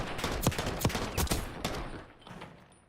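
Gunfire during a Call of Duty Challengers Elite playoff match, with several sharp, loud shots cracking close together over a dense, noisy backdrop that thins out and fades toward the end.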